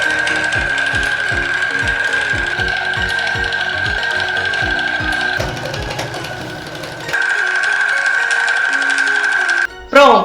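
Sewing machine stitching an apron pocket and strap: a fast, even run of mechanical needle clicks with a steady hum, pausing briefly, then resuming before stopping, close and clear.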